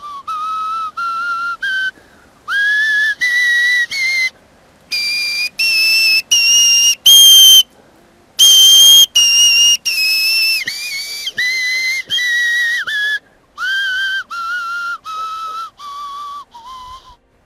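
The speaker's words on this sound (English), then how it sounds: "The acorn cupule is well known as a whistle, a loud whistle" Loud, shrill whistle blown on an acorn cupule in short separate bursts of varying pitch, like a tune played note by note, with brief silences between blasts.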